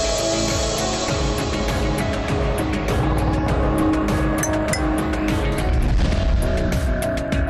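A car pulls away with engine revving and tyres squealing against the road, a loud, close sound effect that builds and runs continuously for several seconds.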